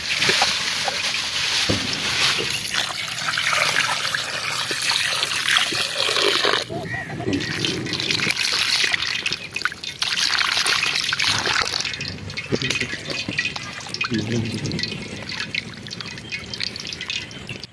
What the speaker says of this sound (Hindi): माशाल्लाह जी, वाइट चिकन कढ़ाई बनाने के लिए हमने 2 किलो चिकन ले लिया है। इसको वॉश कर लेंगे।